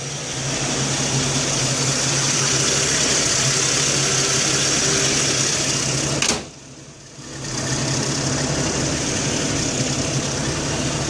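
An AMC 258 inline-six from an early-1980s vehicle idles after a valve cover job, a steady close rumble with a brief dip midway before settling back to an even idle.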